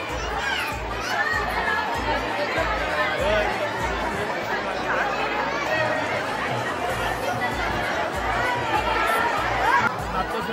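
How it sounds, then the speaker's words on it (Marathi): A dense crowd of devotees at the Kelamba temple chattering continuously, many overlapping voices filling the space with a steady, loud murmur and occasional higher calls. "भक्तांची गर्दी काय कमी होत नाही"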